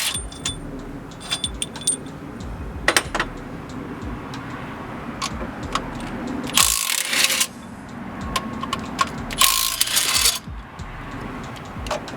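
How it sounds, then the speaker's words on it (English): A small Milwaukee impact driver with a 13mm socket backs out alternator bolts on an International 4300 truck, firing in two short, loud rattling bursts over a steady workshop hum with scattered light metal clinks. "we're going to use a 13mm with our little Milwaukee impact"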